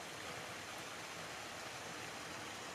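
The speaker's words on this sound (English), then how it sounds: "There's the river" A river in a video game rushes and hisses steadily, a broad even wash of flowing water that fills the short stretch without a break.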